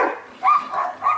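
Dogs bark at a neighbour's dog outdoors, a few quick close barks and yips in a short burst, fairly loud with no talk.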